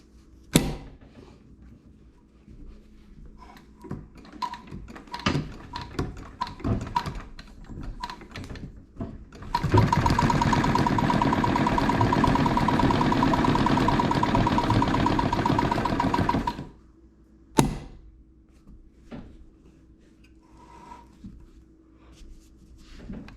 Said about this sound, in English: So I kind of get it started by hand and then I start pumping the treadle.